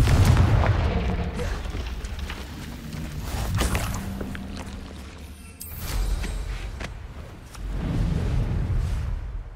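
Spell explosions in the video game Hogwarts Legacy boom out in three loud rolling bursts, each swelling and fading into a rumbling tail, separated by brief quieter gaps.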